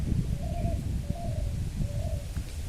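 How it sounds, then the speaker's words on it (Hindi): A bird coos like a pigeon or dove in three soft, evenly spaced calls, mid-distance, over steady low rumbling background noise with no speech. "ये चिड़िया हमें जगाती है"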